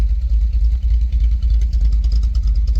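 A Toyota Tercel wagon with a swapped 4A engine and a Schneider Racing regrind cam idles loud and close. The lumpy, choppy idle pulses in an uneven rhythm the whole time.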